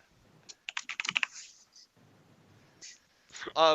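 Players tapping on computer keyboards during a Call of Duty Modern Warfare 2 session: a quick flurry of close, crisp key clicks, then a few isolated taps, with soft voices speaking.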